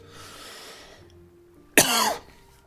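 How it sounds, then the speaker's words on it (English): One sharp, harsh cough bursts out close up after a stretch of quiet low background hum, with a short raspy tail trailing off. "Sympathy cough."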